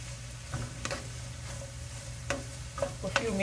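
A carrot burfi mixture being stirred in ghee in a pan, with soft scraping strokes and occasional sharp taps of the spoon over a low steady sizzle, fairly quiet and close, no voices.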